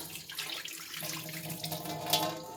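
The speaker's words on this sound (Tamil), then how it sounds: "அந்த சுடுதண்ணியை இந்த நெய் டப்பாவில் வந்து ஊற்றினோம்னா" Hot water is poured into a ghee tin, a steady close splashing trickle with a hollow metallic ring, continuous for a couple of seconds.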